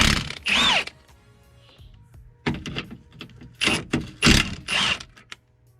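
A ratchet wrench loosens bolts under a BMW around the power steering box, giving loud close bursts of rapid clicking and mechanical whirring separated by brief quiet gaps.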